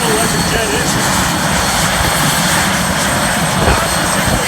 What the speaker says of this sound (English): Equipped with a General Electric jet engine.